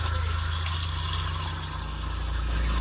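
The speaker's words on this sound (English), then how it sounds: "then we'll also flush the toilet" A Winnebago Solis RV toilet flushes, water rushing loudly and steadily up close with a pumping, filling churn throughout.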